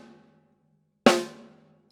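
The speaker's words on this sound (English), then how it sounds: "So it's got a loud crack." A single snare drum rim shot, one loud sharp crack with a short ringing tail, following a faint fading tone.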